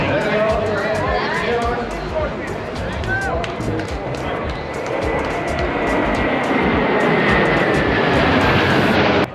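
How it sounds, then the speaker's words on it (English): A single-engine propeller kit plane built to look like an F-22 runs loud and close at the AirVenture 2022 fly-in, its steady engine drone filling the air over crowd chatter and voices. "Looks like some sort of F-22 kit plane,"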